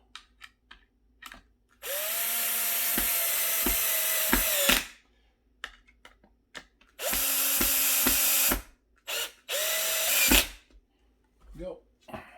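A power drill drives screws into a ClosetMaid closet organizer in three bursts of whirring with a pitch rise as each screw seats, separated by quiet handling clicks and taps, close up.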